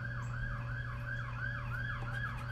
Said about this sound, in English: there's gotta have like some kind of ambulance or something going on